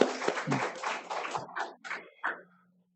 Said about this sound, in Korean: 우리 박수로 환영하겠어요